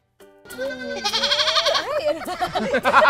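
Baby goats bleat loudly and close by in a goat nursery, several overlapping wavering cries running continuously, with a voice speaking underneath.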